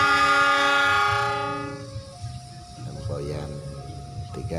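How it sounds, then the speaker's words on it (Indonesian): The Cikuray passenger train departs from an Indonesian station. A loud, sustained multi-tone horn opens the sound and fades, followed by rumbling wheels and a second, quieter horn note in the distance. "Oke, kita abadikan keberangkatan KA Cikuray ya."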